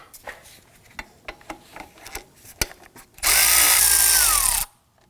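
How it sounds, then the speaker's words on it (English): A 12mm socket works a bolt on a 2005-2009 Subaru Legacy 2.5L H4: a string of spaced ratcheting clicks gives way to a loud, steady motorized whir lasting about a second and a half, then stops. "Using a 12mm socket, want to loosen this bolt here."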